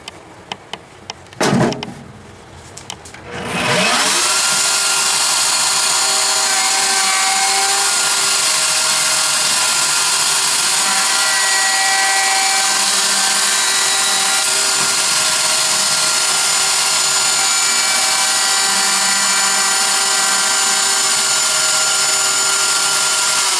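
A router cuts wood for a glider bench: after a few seconds of handling knocks, the router spins up and whines loudly and steadily up close for the rest of the clip.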